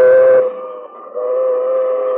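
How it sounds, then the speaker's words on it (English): A train from a 1940s radio drama, with its whistle sounding loud and close in sustained tonal blasts that dip briefly and then resume, heard alone without any voices. "And here comes the train."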